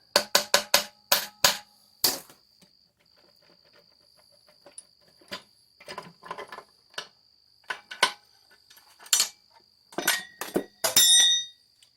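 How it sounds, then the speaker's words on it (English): Sharp metallic taps of a hammer on the shift drum of a Honda Rancher 350 engine ring out, first a quick run of five or six strikes, then scattered irregular knocks and clinks at close range, with a faint whine between. "Tap it with a hammer."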